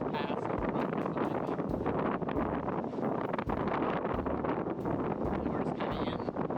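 Strong offshore wind around 35 knots with higher gusts roars steadily over a boat in the Gulf Stream, a dense continuous rush with buffeting against the microphone and voices talking underneath.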